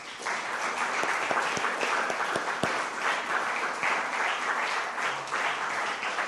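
A church congregation applauds in a continuous, evenly textured wave that holds for several seconds, with a few sharper individual claps cutting through.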